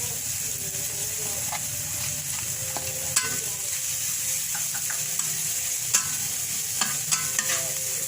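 Onion sizzles in a pan, a steady frying hiss throughout with occasional sharp clinks and scrapes of a utensil stirring against the metal.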